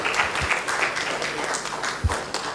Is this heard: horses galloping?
no